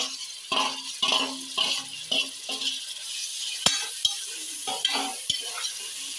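Sizzling mushroom biryani masala with tomatoes going in, loud close frying hiss broken by repeated stirring scrapes and a few sharp clicks of a spoon against the pan, no speech.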